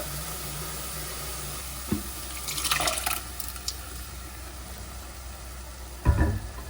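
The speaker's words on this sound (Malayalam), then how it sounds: "അത് തക്കാളിയുടെ വെള്ളമാണ് ഒഴിച്ച് കൊടുത്തത്" Tomato water poured into a pot of toor dal lentil curry: a soft liquid splash and gurgle midway, a brief bubbling sizzle, and a low clunk of a utensil near the end, all fairly quiet with no talking.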